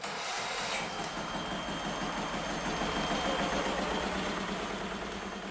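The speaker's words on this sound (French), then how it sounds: "C'est Daniel qui met en route." A compressed-air engine, a homemade prototype in a workshop near Brignoles, chugs steadily after being started, a fairly loud, continuous rhythmic mechanical drone with pulsing low thumps and hiss, no talk.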